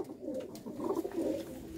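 Male pigeons coo together in a loft in Gurdaspur, a close, continuous stream of throaty, rolling coos that rise in a few stronger bursts midway.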